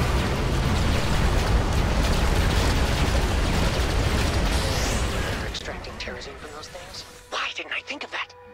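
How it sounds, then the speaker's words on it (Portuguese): A special ability in a StarCraft 2 co-op match rains shots down from space, a dense rumbling barrage of blasts and bursts that fades out, followed by a few sharp scattered game effects. "Aí eu vou usar aqui o especial do Rocky, né? Em que ele solta assim vários tiros, né, vindo do espaço,"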